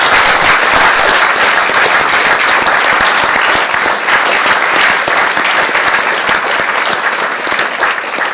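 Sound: audience applause

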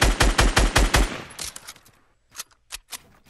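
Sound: sniper rifle gunfire in a video game

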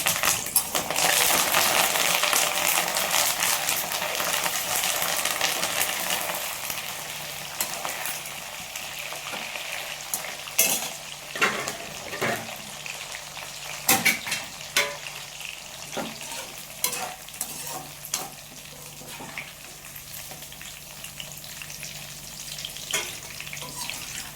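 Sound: chicken pakoda pieces frying in oil with curry leaves

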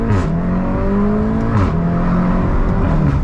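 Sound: 400hp VW Golf R engine during launch

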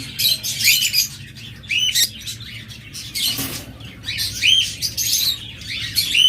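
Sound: pair of lovebirds chirping

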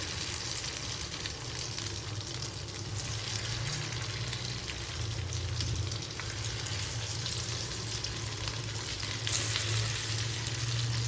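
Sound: chicken frying in oil on a pan

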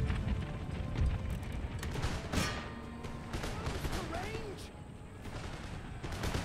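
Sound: canister shot and gunfire in the video game Empire: Total War

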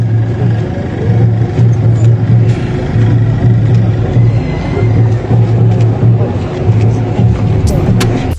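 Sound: car driving away after being let through

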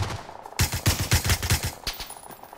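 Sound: sniper gunfire in PUBG video game

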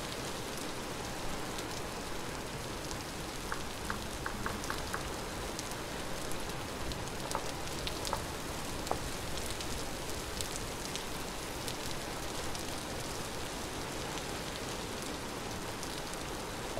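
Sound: rain falling in video game Vintage Story

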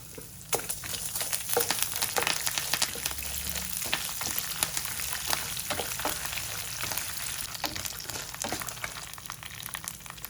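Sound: sesame seeds and dried red chilies frying in oil

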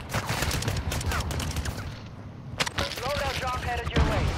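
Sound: gunfire in the video game Warzone

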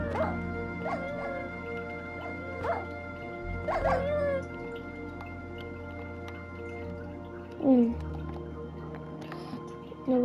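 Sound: dogs barking and whimpering in a cave, from the video game Minecraft

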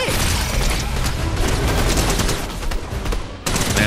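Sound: gunfire in Fortnite video game

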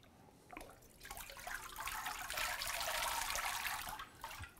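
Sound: water dripping from papermaking mold lifted out of vat

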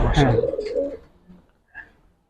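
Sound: Indian Bombay pigeons cooing

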